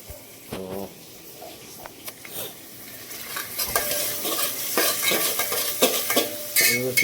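Chopped onion fries in oil with cumin and curry leaves inside a pressure cooker, a building sizzle punctuated by metallic scrapes and clinks of a spoon stirring against the pot, close and without speech.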